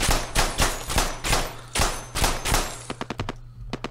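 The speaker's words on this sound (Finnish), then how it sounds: "kun tota hirveä ammunta kuuluu" Rapid bursts of automatic gunfire from a tactical shooter game, Ground Branch, loud and close, with a sustained volley followed by a string of sharp, evenly spaced single shots at the end.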